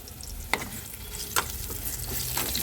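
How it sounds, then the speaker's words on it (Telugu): Bitter gourd slices and onion fry in hot oil with a soft, steady sizzle, broken by a few sharp spatters and the scrape of a spoon stirring in the pan, with no voices. "ఇదిగోనండి కాకరకాయ కూరలోకి ఇది వేగుతున్నాయి"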